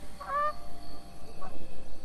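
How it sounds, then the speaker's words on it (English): Geese honk repeatedly in the video game The Forest, a string of nasal calls coming in quick pulses, moderately near over a quiet lakeside ambience with a faint steady background tone. "Yep, so you hear the geese."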